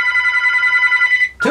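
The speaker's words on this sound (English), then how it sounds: "Phone's ringing again." Electronic telephone ringing in the interactive horror game "...Hello?", a steady repeating ring tone held loud and clear for over a second before it cuts off into a short noisy burst.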